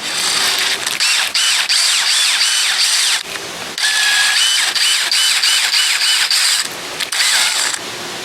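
A Dremel rotary tool grinds on a part from a 20 hp Johnson outboard motor, a loud high whine that cuts in and out in several bursts with short pauses between.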